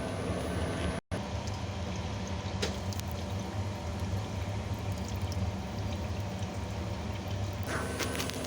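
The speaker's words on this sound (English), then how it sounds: "still draining, but it's only a little bit of water coming out" Water drains steadily from a booster pump, a continuous rushing, pouring hiss at moderate level with a brief dropout near the start and faint clicks.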